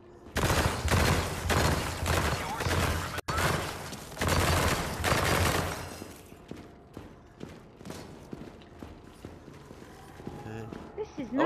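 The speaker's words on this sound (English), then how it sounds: "Can we please stop shooting each other?" Gunfire in the video game After the Fall, rapid bursts of loud shots in dense volleys for several seconds, then thinning to scattered sharper cracks and mechanical clatter, with players' voices in the background.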